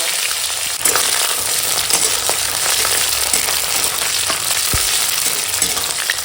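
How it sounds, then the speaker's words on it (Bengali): Chopped onion and green chilli fry in hot oil with whole spices, giving a loud, continuous sizzle broken by occasional light stirring clicks close up. "এখন দিয়ে দেবো কেটে রাখা পেঁয়াজ আর কাঁচা লঙ্কা দিয়ে একসঙ্গে সব ফোড়নের সঙ্গে ভেজে নেব"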